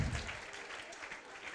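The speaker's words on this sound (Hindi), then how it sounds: "तालियां तो बजा दो" A congregation gathered for a Jain religious discourse breaks into applause: dense, even clapping from many hands that stays steady for the short moment without any talk.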